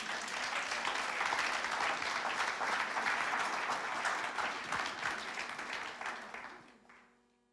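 Congregation applauding during a charismatic church service, a dense sustained wash of many hands clapping that holds steady for several seconds and then fades out at the end.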